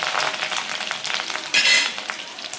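Curry leaves and garlic sizzle in hot oil for a bitter gourd dish, a steady close crackle that flares into a louder spitting burst midway as the leaves go in.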